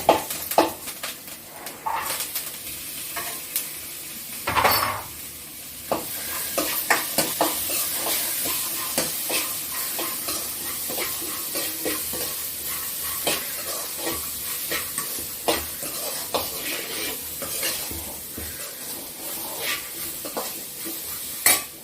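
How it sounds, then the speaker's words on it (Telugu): Spices and boiled pigeon peas sizzle in hot oil while a spoon stirs and scrapes against a metal pan, with occasional clinks. "ఈ కందులు తాలింపు పెట్టుకుంటున్నా సాయంత్రం స్నాక్స్ లాగా తినడానికి బాగుంటాయి"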